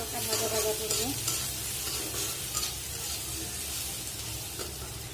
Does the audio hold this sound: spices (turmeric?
yes